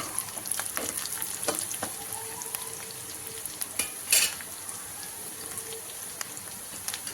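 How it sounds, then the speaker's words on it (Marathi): Onions and green chillies fry in a pan for aloo vada, giving a steady close sizzle with soft stirring scrapes and a brief louder burst near the middle; no one speaks. "कांदा भाजून झाल्या, मिरच्या भाजून झाल्या, थोड्याशा लालसर।"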